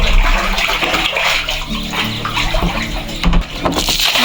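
Muddy water gushes steadily and loudly into a rooftop water tank, a continuous splashing roar with no talk.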